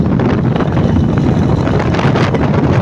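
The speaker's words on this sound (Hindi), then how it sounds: "हवा चल रही ठंडी ठंडी" Strong wind buffets the microphone outdoors in a busy Karachi setting, a loud, constant roar with no break from start to finish.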